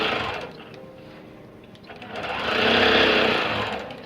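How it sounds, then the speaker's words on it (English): A Bernina longarm quilting machine stitches in stitch-regulated mode during ruler work, a steady whirring hum that swells louder toward the end, close and alone. "Now we'll do a couple stitches."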